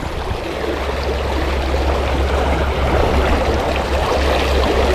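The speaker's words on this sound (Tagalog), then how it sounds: "lakas ng agos dito" A strong river current rushes past at low tide as the water drains out, making a loud, steady broadband roar with a low rumble underneath, close and continuous, with no one speaking.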